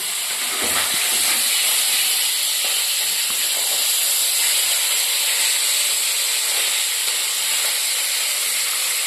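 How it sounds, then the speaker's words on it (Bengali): Singhi catfish frying in hot oil in a pan, a continuous loud hissing sizzle that stays steady throughout, close and unbroken, with no voices. "এবার মাছগুলি ভেজে নিচ্ছি"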